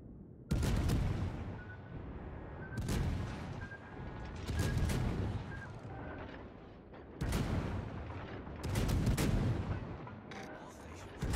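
Warships in the naval game World of Warships fire high-explosive shells in heavy booming salvos, roughly six loud blasts each followed by a rumbling decay, with quieter gaps between them.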